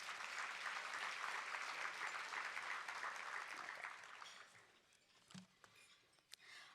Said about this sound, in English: Now let's give them all a round of applause.